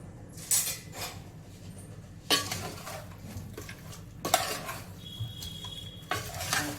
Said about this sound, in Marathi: मिक्स करणार आहे छान चम्मचनीच करते मी